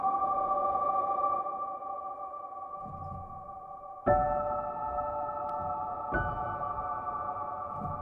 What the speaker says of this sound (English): almost like vocal, but this is all being derived from the pianos and resampling and processing